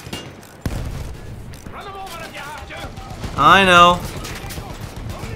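Gunfire crackles through a Battlefield 1 match in rapid bursts around the players, sitting under continuous talk and a brief excited shout.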